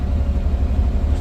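A 1977 Camaro's V8 idles nearby with a deep, steady rumble and a faint irregular ticking of slight spark knock, running alone with no voices over it.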